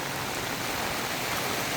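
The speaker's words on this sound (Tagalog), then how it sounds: "Kusog yung ulan. Grabe ka kusog yun." Heavy rain pours down steadily, a loud, dense and unbroken hiss of drops striking surfaces nearby.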